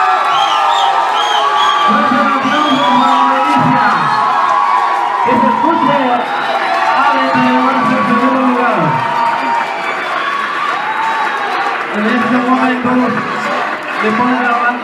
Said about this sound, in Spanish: aplauso para Adelicia. Que se escuche